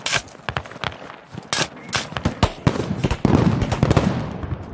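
Rapid, irregular gunshots crack out in a first-person shooter match on the Kohat RAAS map, bursts of sharp reports scattered across the moment with varied distance, some near and loud, others duller, amid general battle noise.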